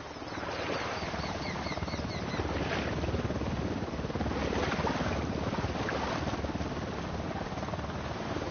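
A helicopter in Ghost Recon Wildlands drones steadily with a whooshing, wind-like rotor wash that swells and fades slightly, heard without any talking.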